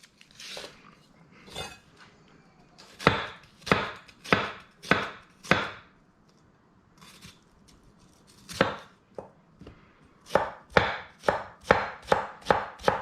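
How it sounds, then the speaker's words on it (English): Knife mincing an oddly cut onion on a cutting board, sharp close chops that come in short bursts and scattered single strokes, ending in a quick, steady run of chops. "I'm going to mince up this onion."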